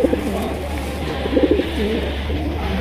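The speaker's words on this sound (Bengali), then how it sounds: "দুটো কবুতরের ডাকটাও দেখাই দিব" Fancy pigeons, including a colored Rajgolla pair, coo with low throaty phrases, a couple of fuller bursts standing out midway over a steady low background hum.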